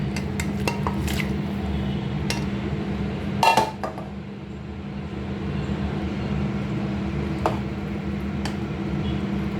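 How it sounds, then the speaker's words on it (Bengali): Fried chicken pieces tipped into a pot and stirred with a utensil, bringing clinks and scrapes of metal on cookware, with a louder clatter early on over a low, steady cooking rumble. "চিকেনগুলো দিয়ে একটু হালকা নেড়ে ভিতরে দিয়ে দিলাম।"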